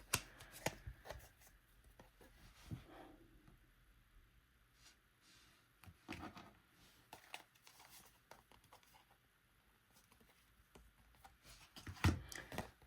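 A deck of tarot cards is shuffled up close in soft, irregular bursts of riffling and tapping, with short quiet pauses and a sharper knock near the end.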